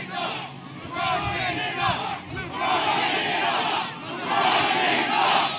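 A large crowd at a Trump rally in Pennsylvania cheers and chants in loud, rolling waves that swell and ebb over several seconds, with massed voices merging into a continuous roar.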